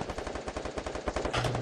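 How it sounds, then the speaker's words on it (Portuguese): Rapid automatic gunfire from a video game rattles in a fast, regular burst of sharp shots, loud and close, with no talk over it. "Tá um tiro, toma uma bala, Racha, toma uma bala"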